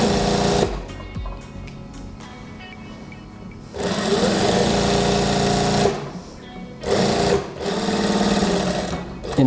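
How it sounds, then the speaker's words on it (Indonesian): Sewing machine running in long continuous bursts while stitching children's shorts, loud and close, with brief pauses between seams. "Nah, saya jahit bagian ini depan ya."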